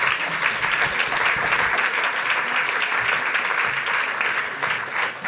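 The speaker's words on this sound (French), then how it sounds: "Et on peut les applaudir, absolument." A café scientifique audience applauds the evening's speakers with dense, steady clapping that fills the room and holds for several seconds.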